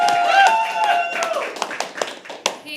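A crowd at a poetry open mic bursts into scattered clapping as a voice or cheer fades, the claps uneven and loud up close.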